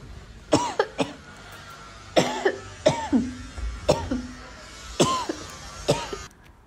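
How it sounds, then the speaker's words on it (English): A man coughs repeatedly near a shoe shop in Turkey, about seven or eight harsh, close coughs in irregular bursts with short gaps between them. "that guy who left the shop who was coughing"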